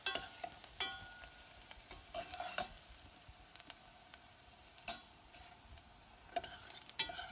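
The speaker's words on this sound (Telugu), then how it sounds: "ఉల్లిపాయలు వేగిపోయిన తర్వాత తోటకూర కాళ్ళు ఉంటాయి కదా అవి వేయాలి." Amaranth stalks frying with onions in a pan, stirred now and then: a faint, steady sizzle broken by a few sharp scraping and clinking strokes of the spoon, with no talk.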